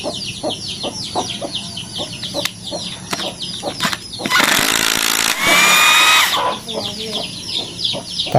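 A DC Dongcheng cordless impact screwdriver drives a screw into hardwood in two loud, buzzing, hammering bursts, while roosters and chickens cluck and crow around it.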